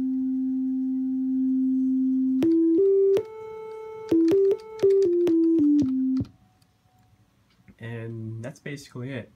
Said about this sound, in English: the application is generating a sine wave, and I can change the frequency of each of the sound coming from the codec